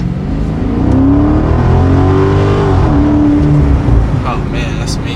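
Chrysler 300C with a 392 Scat Pack V8 engine, a deep loud rev that climbs and falls back over a few seconds, rumbling close with a voice speaking over it.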